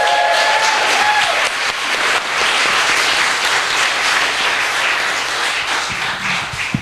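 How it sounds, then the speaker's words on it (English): A church congregation applauds together during a Sunday Flower Communion service, a dense, steady wash of clapping that stays loud and sustained for the whole stretch, with faint voices mixed underneath. "let's give a big round of applause"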